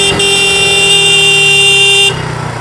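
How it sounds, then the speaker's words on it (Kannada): A KTM RC 200 motorcycle sounds its horn in one loud, steady, close blast of about two seconds before cutting off, leaving only the engine idling underneath. "ಹಾರನ್ ಲೌಡಾಗಿದೆ"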